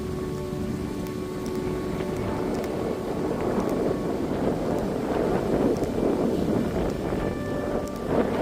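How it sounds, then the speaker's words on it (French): Wind blowing outdoors in the countryside after rain, a steady broad rushing and buffeting against the microphone with faint ticks and patters, continuous and moderately quiet throughout. "Juste pour entendre le bruit du vent."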